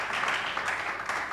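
Sustained audience applause and cheering at a church gathering of worship songs and preaching, a steady dense wash of clapping throughout with no gaps.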